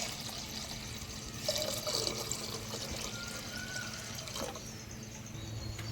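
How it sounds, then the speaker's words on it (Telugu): Water pours steadily from a jug into a pot for making tea, a continuous splashing gurgle with a few brighter drips, fairly quiet. "సగం జగ్గు వాటర్ వేసుకుందాం మనం"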